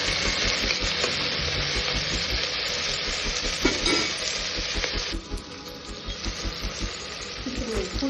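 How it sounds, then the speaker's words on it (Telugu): Small tomatoes are stirred into onions and garlic frying in a pan, giving a loud, steady sizzle with scraping stirs throughout; the hiss thins out partway through and then picks back up. "చిన్నవి 2 టమాటాలు వేసుకొని కలిపేద్దాం."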